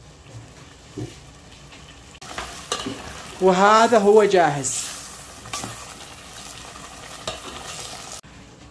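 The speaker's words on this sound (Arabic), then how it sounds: "واضيف الثوم والزنجبيل اللي خلطناه، واقلبه شويه" Ginger and garlic paste sizzles and fries in a pan while being stirred, with a bright burst of loud hissing midway and scraping strokes around it, and a voice speaks briefly near the end.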